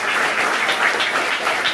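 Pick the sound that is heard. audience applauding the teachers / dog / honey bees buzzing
audience applauding the teachers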